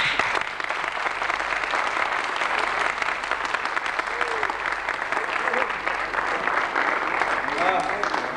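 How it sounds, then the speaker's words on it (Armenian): A theatre audience applauds after a performance of Goldoni's play The Servant of Two Masters, with dense, sustained clapping from a large crowd filling the hall and a few voices faintly audible beneath it. "դրա համար ևս ծափահարենք։"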